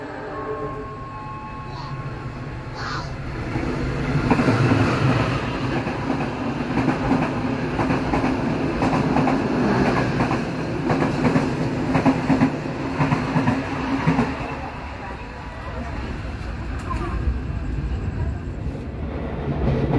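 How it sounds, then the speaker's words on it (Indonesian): A passenger train, the Sri Tanjung, rumbles steadily along the rails just after leaving Purwosari station, with rhythmic clacking and a broad, continuous roar from inside the carriage. "baru saja kereta api Sri Tanjung meninggalkan stasiun Purwosari"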